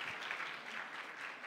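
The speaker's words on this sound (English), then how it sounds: "Can you give him an applause for his honesty and candidness?" A live audience gives a round of applause for the guest, soft and distant clapping that stays even and continuous for a short moment.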